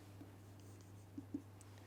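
A physics formula is written out by hand, leaving faint soft scratching strokes and a couple of light taps against a steady low electrical hum.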